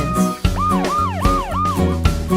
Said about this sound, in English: I see a police car.